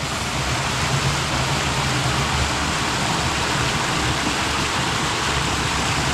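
A river in an African village rushes steadily nearby as a dense, unbroken broadband wash of flowing water, loud and close with no talk over it.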